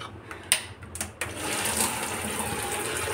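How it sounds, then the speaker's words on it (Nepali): Water runs from a kitchen tap into a container, a steady moderate gushing stream that starts after a few brief clunks and continues evenly to the end. "पानी थाप्दैछु, पानी हाल्नको लागि"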